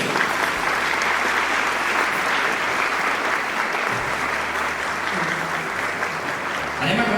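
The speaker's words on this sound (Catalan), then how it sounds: "Un aplaudiment per a la primera parella de la nit." An audience at a wedding-themed dance competition claps for the first couple of the night. The applause is loud and sustained from start to end, dense and steady, with a few voices and cheers mixed in.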